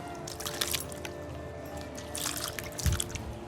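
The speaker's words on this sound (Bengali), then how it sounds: "বেগুনটাকে ভালো করে ধুয়ে নেবেন" An eggplant rinsed by hand in water: soft splashes, drips and squishy rubbing, fairly quiet and close, with a small slosh near the end.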